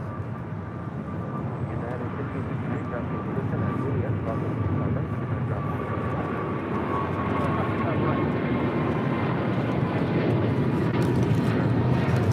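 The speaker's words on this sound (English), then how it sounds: "This is United Airlines 1158 taking off to Honolulu, Hawaii on a 777-200" A United Airlines Boeing 777-200, bound for Honolulu, takes off at LAX with a broad jet engine roar that swells gradually and stays strong, a thin whine running through it, while people talk over it.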